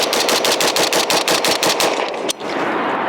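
A New Frontier Armory G4 pistol fitted with a compensator fires a rapid string of about a dozen close, loud shots at an even fast rhythm, followed by a brief pause and one final report.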